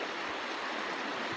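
A swollen creek rushes through an autumn forest in the Olympic Mountains, a steady, full roar of flowing water, close and constant, with no voices.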